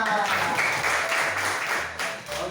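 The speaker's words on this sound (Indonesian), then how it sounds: "Ya benar, tepuk tangan." Applause from students in a classroom after a correct answer, a brief burst of clapping mixed with voices talking, moderately loud and tapering off.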